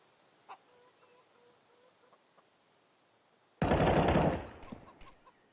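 A Mac-10 submachine gun firing in an esports first-person shooter match arrives as one loud, dense burst of rapid shots after a quiet stretch with faint game sounds, then fades away.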